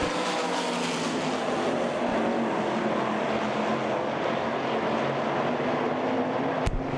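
Race cars at Port Royal Speedway make a continuous loud roar of engines with a steady, dense rumble and a brief sharp crack near the end.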